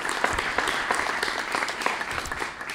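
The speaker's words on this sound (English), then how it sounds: "let us applaud that." Audience applause in a lecture hall after a talk on economics, a dense steady wash of many hands clapping close and loud for the full stretch, fading slightly at the end.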